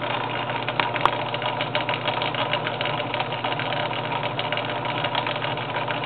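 A Craftsman lathe runs steadily after about twenty minutes of operation, with spindle runout and replaced bearings and bushings, giving a continuous mechanical hum and rattle up close with no pauses.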